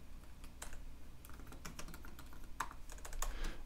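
Code typed on a computer keyboard for a Ruby on Rails project, a steady run of light, quick key clicks at close range with nobody speaking.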